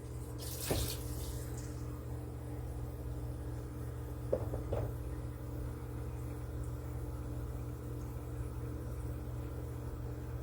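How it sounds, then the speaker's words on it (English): Tap water pours steadily into a cooking pot in a home kitchen, a soft continuous rush under a low background hum, with a couple of brief clinks near the start and middle. "And then I'm gonna put water in there so it can start to curdle."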